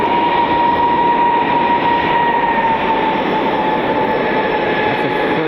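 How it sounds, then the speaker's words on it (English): A United Airbus A319 jet on an airport runway gives a loud, steady engine roar with a broad rumble and whine, sustained and near, with no voices. "United taking the runway. It's an A319 on its way to Denver this afternoon."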